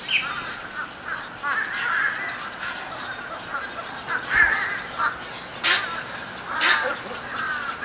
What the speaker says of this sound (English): there's birds outside of the sanctuary